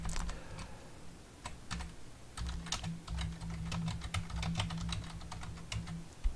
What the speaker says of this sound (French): je vais pouvoir écrire directement du JavaScript